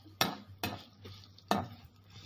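A spatula scrapes through a pan where six cut garlic cloves and whole spices are roasting. Three distinct stirring strokes come at a moderate pace over a faint, steady sizzle, close and fairly quiet, with no one talking.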